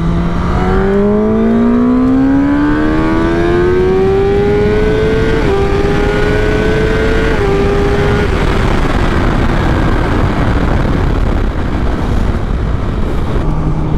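A stock 2019 Kawasaki ZX10R sport bike accelerating hard in second gear on a road, its engine note climbing steadily in pitch, loud and close, with a brief dip at a shift before it roars on into wind noise.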